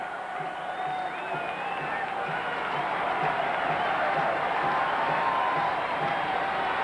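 A boisterous baseball crowd at a Chicago White Sox at Cleveland Indians game, a steady roar from the stands with scattered whistles and cheers, and a broadcaster talking over it.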